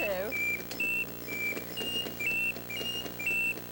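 Several short, bright whistle tones from a whistling tea kettle novelty toy sound in quick, uneven bursts, some sliding in pitch, over a steady background of music.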